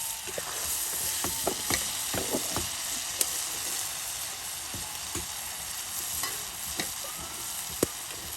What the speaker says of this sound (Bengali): এই যে এখন ডিমগুলো একদম কষানো মশলায় দিয়ে দেওয়া হলো